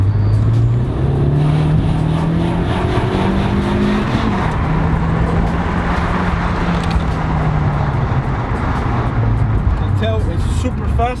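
A Renault Megane RS225 accelerates hard in second gear, its engine note climbing loudly and steadily before a shift, with wind and road roar close up from inside the car.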